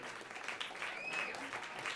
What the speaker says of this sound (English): another warm applause for them